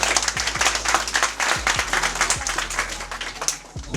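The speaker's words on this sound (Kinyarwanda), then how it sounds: "amashyi menshi cyane" A crowd applauds steadily at a Burundian music and media awards event, dense clapping sustained throughout with no talk over it.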